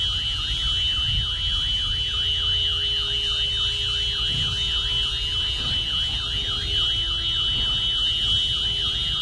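A car alarm wails with a rapid up-and-down warbling tone, steady and continuous over low rumbling background noise, with a brief word spoken.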